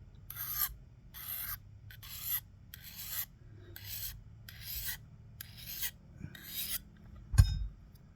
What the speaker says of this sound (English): just a little file on the back side, just to kind of clean up any burr and help really tone that blade